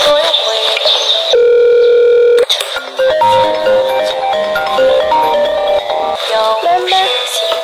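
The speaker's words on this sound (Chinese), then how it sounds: "你打电话问问吧" Telephone call tones in a Chinese rural household: a steady dial or ringback tone running alone for about a second, with brief keypad beeps around it amid background sound.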